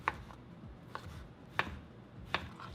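A knife slices a block of tempeh into strips on a cutting board, four quiet, sharp taps spaced unevenly about half a second to a second apart, close by with no talking.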